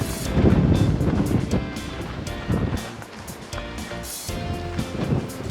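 Strong wind in Big Bend National Park buffets the microphone in continuous rumbling gusts that swell and ease, loud and close, with no voices.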